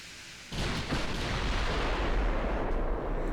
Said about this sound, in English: They're still insisting on going out for gunnery practice.